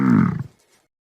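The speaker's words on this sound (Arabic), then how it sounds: "ثور" A bull gives a single short, deep moo that sounds close and loud, then fades out quickly into silence.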